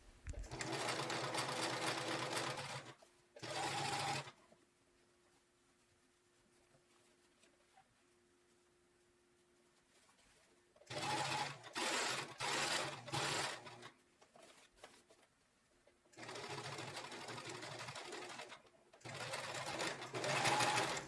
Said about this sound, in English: Run another straight stitch very close to the edge of the folded fabric.